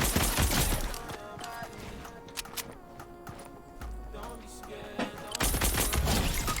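Rapid automatic gunfire crackles in an online shooter game, in loud dense bursts at the start and end with a quieter stretch of scattered shots and footsteps between.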